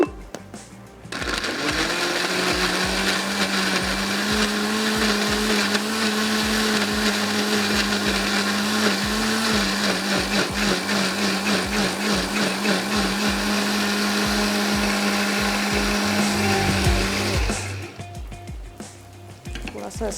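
A kitchen blender grinds onion with water for tomato pulao, its motor starting abruptly and running loud and steady with a droning whine for about sixteen seconds before cutting off, no talk over it.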